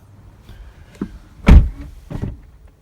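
A single solid car door thunk on a 2017 Lexus LC 500h coupe lands near the middle, bracketed by a couple of softer clicks and rustles of someone moving around the car.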